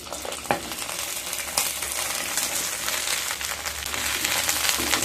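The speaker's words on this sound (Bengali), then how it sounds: "তেলটা গরম হয়ে গেলে ভেন্ডিগুলোকে ভেজে নেব।" Okra frying in hot mustard oil in a pan, a loud, steady crackling sizzle with a few sharp clinks near the start, close up with no talking.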